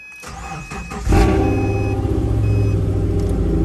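A naturally aspirated Subaru with a modified loud exhaust cranks briefly, then fires into a deep, booming idle rumble that holds steady and close.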